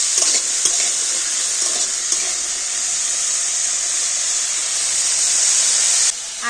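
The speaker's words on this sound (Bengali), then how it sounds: "এবার আমি সমস্ত সবজিগুলো একটু ভালো করে তেলের সাথে নাড়াচাড়া করে নেব।" Vegetables stirred in hot oil in a pan give a steady, close hiss of sizzling with faint scraping from the stirring, loud and unbroken until a sudden drop near the end.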